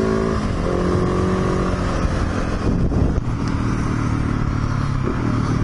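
Motorcycle engine drones loudly and continuously up close while accelerating in third gear, with steady rumbling throughout and a brief clattery moment midway.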